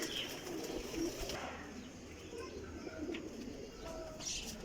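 Breeder pigeons coo softly in a loft, low throaty calls repeating every second or so against a quiet room background, with faint chirps from other birds.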